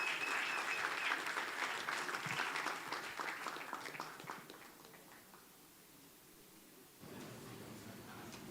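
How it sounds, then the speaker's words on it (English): An audience claps for a speaker walking to the stage at a celebration, a dense, fairly faint wash of applause that fades over several seconds and leaves room noise. "Gobu a big round of applause as he makes his way to the stage."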